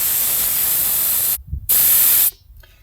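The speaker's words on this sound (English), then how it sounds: "That's what it sounds like when the valve stem core is all the way out." Loud, steady rush of air hissing out of a tire valve with the core fully removed. It cuts off briefly, bursts back strongly, then stops, close up.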